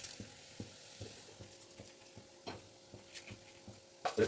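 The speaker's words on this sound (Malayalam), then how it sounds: "ഒരു 2 മിനിറ്റ് ഒന്ന് ഇളക്കി ഫ്രൈ ചെയ്ത് എടുക്കുക." Rice stir-fried in ghee with vegetables, coriander and mint leaves while making beef biryani, giving a faint steady sizzle with a regular ticking of stirring strokes and a few louder scrapes near the end, no talking.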